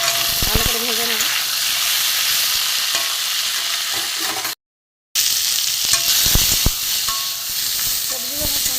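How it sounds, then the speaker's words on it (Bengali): Sweet potato, white potato and eggplant pieces fry in a pan with steady, close sizzling and occasional stirring scrapes, briefly cut to silence midway before the frying noise resumes. "ভালো করে ভেজে নেব।"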